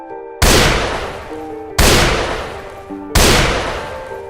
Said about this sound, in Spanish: Mientras buscaba escuché el ruido de balazos.